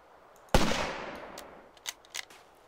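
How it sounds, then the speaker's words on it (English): A single sharp rifle shot rings out in The Long Dark, fired at an animal in a snowy survival setting, with a long decaying echo tail followed by two faint clicks. "See if we can just take a shot."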